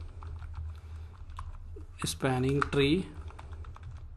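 Commands typed on a computer keyboard for a Cisco network lab: rapid, light key clicks in quick bursts throughout, close up, with a voice speaking briefly over them in the middle.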